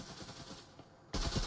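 Gunfire in the Breachers VR shooter game crackles in a rapid series of faint bursts, then a louder, denser blast of shots erupts near the end of the short stretch.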